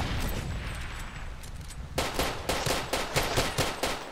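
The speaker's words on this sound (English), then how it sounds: "Let me try this little pistol action here." Pistol gunfire in Far Cry 2, heard as a rapid run of sharp, evenly spaced shots that begins about halfway through. Steady game ambience plays beneath, with no talk.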